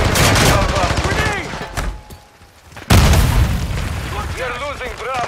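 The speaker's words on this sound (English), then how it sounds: "Incoming grenade!" A grenade bursts amid rattling gunfire in a Modern Warfare 2 Domination match, loud dense shooting dropping briefly before a sharp booming blast, with radio-style voice callouts over the combat.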